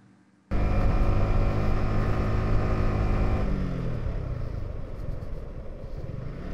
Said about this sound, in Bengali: ইঞ্জিনে প্রচুর প্রেসার দেওয়া লাগতেছে।